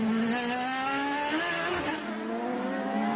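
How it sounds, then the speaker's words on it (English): IndyCar race car accelerating hard with a little wheel spin, its high engine note climbing steadily and loud, with a faint tire squeal blended into the continuous roar. "Will Power, you can hear a little bit of wheel spin"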